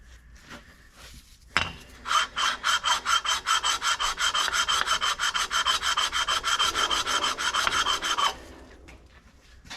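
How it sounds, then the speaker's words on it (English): Scratches on the exhaust of a 1968 Mercury Colony Park are rubbed out by hand. Rapid, regular back-and-forth rasping strokes sound close and loud for about six seconds, with quiet before and after. "going to take a lot of rubbing, but change the direction of the scratches to really see where we're at."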